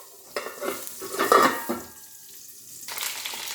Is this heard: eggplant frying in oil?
yes